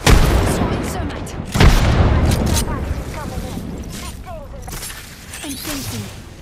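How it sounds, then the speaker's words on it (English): A thermite grenade thrown and bursting in the battle-royale shooter Apex Legends, opening with a loud booming blast and sharp whoosh, followed by crackling fire and scattered electronic game sounds fading over several seconds. "Throwing a grenade. Tossing a grenade. Throwing thermite."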